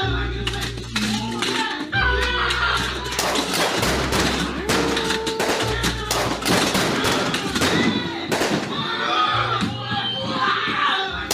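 Rapid gunfire in Little Nightmares 2 cracks out in dense, repeated volleys over a pulsing low rumble, with frantic shouting and screaming mixed in.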